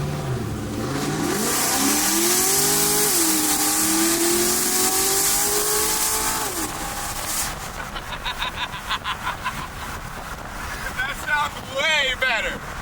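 A straight-piped, cammed police car engine revs loudly, rising and falling in long pulls, then settles into a choppy, lopey idle with sharp throttle blips near the end.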